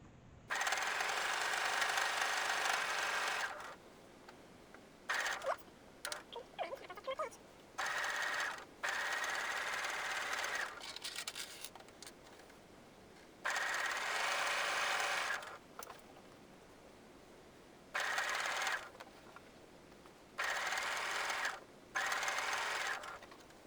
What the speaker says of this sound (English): And now sew round the apron.